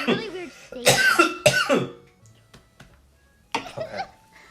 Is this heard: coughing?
yes